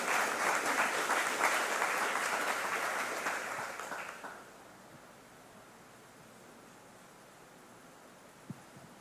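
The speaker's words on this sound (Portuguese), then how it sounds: "vamos receber o pregador desta manhã com a salva de palmas" A church congregation at a Sunday morning service claps warmly for the preacher, dense and loud at first, then thinning and fading away after about four seconds into quiet room tone with a single late clap.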